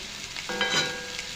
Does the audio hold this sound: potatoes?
yes